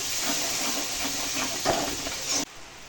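Ginger, cumin, dried chillies and a little turmeric sizzling in ghee with tomatoes for a Bengali cauliflower malai curry, a loud steady hiss with a few soft stirring clicks that cuts off abruptly near the end.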